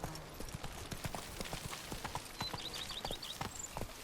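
Horse hooves clip-clop at a steady walking pace in The Witcher 3 video game, close and clear, with a few faint chirping ambient calls in the background and no speech.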